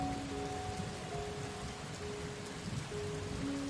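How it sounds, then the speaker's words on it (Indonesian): Steady rain falls from dark clouds as a constant, even wash of hiss, with faint sustained musical tones lying underneath it throughout. "Hujan pun mulai turun dari awan."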